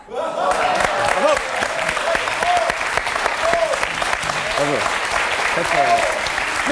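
Sustained audience applause on a French comedy TV show, broad and steady throughout, with a voice and other vocal bits breaking through over the clapping now and then.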